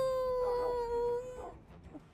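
A werewolf in Minecraft howls, a long, clear, steady wailing tone that slowly sinks in pitch before breaking off into faint whimpering noises, heard close with no talk over it.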